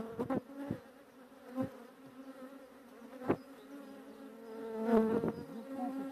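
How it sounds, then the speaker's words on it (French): A steady, close buzz of honey bees humming around a hive, with a few louder bees passing near now and then. "vraiment un beau cadre de couvain, des abeilles assez calmes somme toute"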